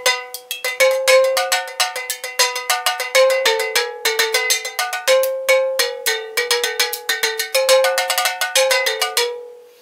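Mason jars struck with chopsticks as found percussion, bright glassy ringing clinks in a quick, steady rhythmic pattern, close and alone, with a clear pitched tone under each hit.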